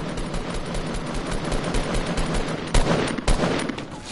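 Rapid automatic gunfire in the video game Fortnite rattles in a dense, sustained burst, loud and continuous, with two sharper, heavier shots standing out near the end.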